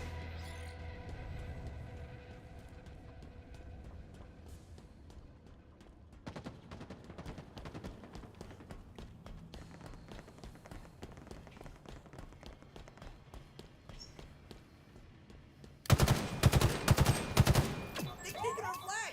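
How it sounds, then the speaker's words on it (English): Battle rifle gunfire in a Halo-style video game with Spartans, heard as repeated rapid shot bursts over a busy game soundscape that grows into a loud, dense volley near the end. "Some fucking crazy battle rifle action."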